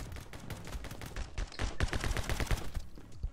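Rapid bursts of gunfire from the video game My Friend Pedro crackle almost continuously, dense and loud, with shots overlapping in quick automatic volleys and no speech.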